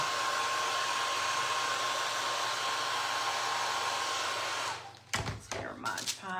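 A hair dryer blows steadily and loudly, drying paper mache rabbit ears, then cuts off near the end as a voice begins talking.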